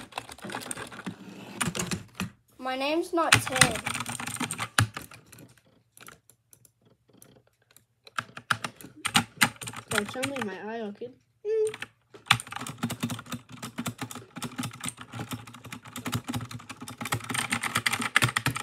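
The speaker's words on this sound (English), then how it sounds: "What do you mean you can hear my keyboard and my mouse?" Rapid clicky keyboard typing comes in bursts, with a voice speaking between and over the keystrokes.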